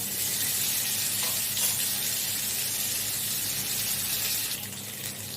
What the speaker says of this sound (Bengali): এরপর আমি গোটা গরম মশলা, জিরে আর শুকনো লঙ্কা ফোড়ন দিলাম।